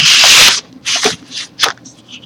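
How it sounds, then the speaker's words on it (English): Paper being cut down to size by hand produces close, crisp rustling bursts: one long cut followed by a few shorter ones, with no voices. "I'm going to cut this paper down."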